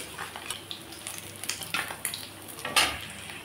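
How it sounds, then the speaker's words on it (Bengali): Pabda fish frying in a pan, a faint sizzle with a few soft scrapes and stirring clinks of a utensil against the pan, quiet and close. "বাকি মাছগুলোকে আমি এরকমভাবে ভেজে নিচ্ছি।"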